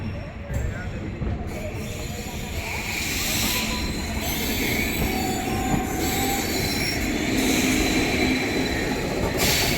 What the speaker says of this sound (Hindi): ये फाइनली अपनी ट्रेन का अराइवल हो रहा है गाज़ियाबाद जंक्शन पे।